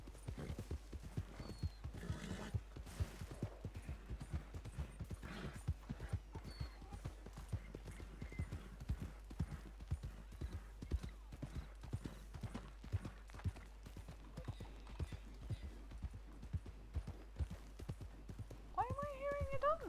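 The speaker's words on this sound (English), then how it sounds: "Why am I hearing a donkey?" A horse or donkey gives off steady rhythmic clip-clop sounds for the whole stretch, ending in a brief whinny-like cry, while a person talks at times over it.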